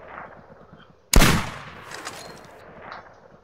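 A single sharp bolt-action rifle gunshot fires in the hunting video game Cabela's Trophy Bucks, set in Alberta, with a loud sudden crack that rings out and decays over a couple of seconds against quiet game ambience.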